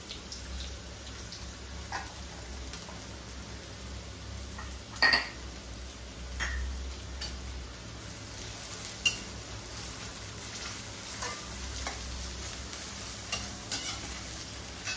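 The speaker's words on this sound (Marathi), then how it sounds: "आता हे भांड गरम झालंय, ह्याच्यात हा कांदा घालूया." Onions frying in a hot pot for Marathi watana bhaat, a faint soft sizzle with scattered metal stirring taps and clinks of a spoon against the pot.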